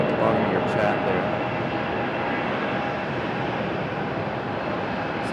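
A Delta airliner on the move at Raleigh-Durham airport gives off a steady, broad engine roar that holds at an even level throughout, somewhat distant and continuous.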